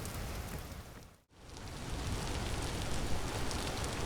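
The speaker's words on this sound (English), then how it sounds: "it's raining quite a bit" Steady rain pours in the survival game Vintage Story, a dense, even hiss that cuts out for a moment and then returns just as full, with no voices.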